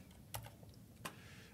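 Keystrokes on a computer keyboard while entering a document description, two short clusters of taps separated by a pause, faint and close with no talking.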